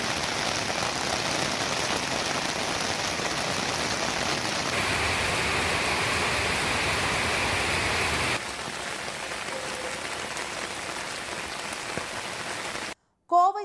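Heavy rain pours down as water runs across roads in Gudalur and Pandalur. The downpour makes a loud, steady hiss of drops hitting the surface that shifts in level partway through, then cuts off briefly right at the end.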